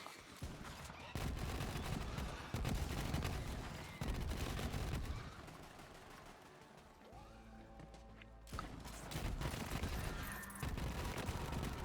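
Jacob's assault rifle, a Mayhem 5 weapon in the video game Borderlands 3, fires in loud rapid bursts with a short pause in the middle before the firing resumes.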